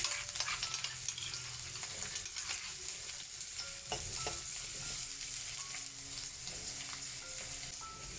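Mustard seeds and chopped shallots fry in hot oil, giving a steady crackling sizzle with occasional sharper pops and faint stirring, close and continuous with no talking.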